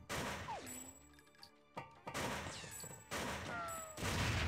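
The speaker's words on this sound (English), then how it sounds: "Did that guy just throw a grenade?" Grenade blast and gunfire in TimeSplitters on PS2, level Tomb (1935): a sustained, loud barrage of cracking bursts and thuds with whistling tones, broken by several abrupt heavy impacts and no talking.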